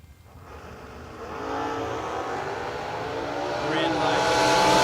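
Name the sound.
drag race cars launching, black Camaro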